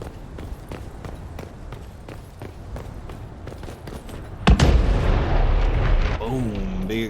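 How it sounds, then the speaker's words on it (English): A big boom goes off in the video game Dragon Age Inquisition, cutting through rhythmic thuds and ambience and followed by a rumbling roar and a falling whoosh. "Boom! Big explosion at that one."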